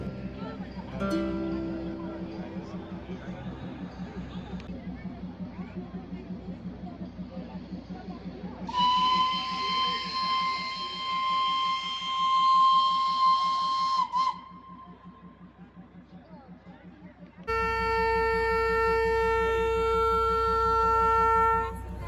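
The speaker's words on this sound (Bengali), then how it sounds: "একে একে দুটি ট্রেনই এগিয়ে যাবে বলে সাইরেন দিতে শুরু করলো।" Two trains at Ghum station near Darjeeling sound their whistles one after the other before departing, each a long, loud, steady tone lasting several seconds, following a rhythmic chuffing and puffing of steam, with people talking nearby.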